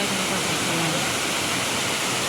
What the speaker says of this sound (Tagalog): Ito na guys, ang Saitam Falls.